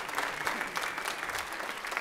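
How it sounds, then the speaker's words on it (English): Audience applause fills a school spring choral concert at a high school, a steady, dense wash of many hands clapping at moderate distance with no talk over it. "So a round of applause for our state and all state."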